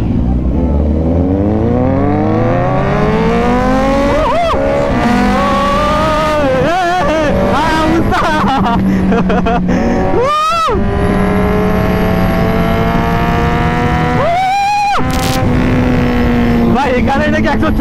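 Several superbikes race nearby, their engines revving loud and close in rising and falling pitch sweeps, with sharp bursts as they shift. Voices talk under the engine noise.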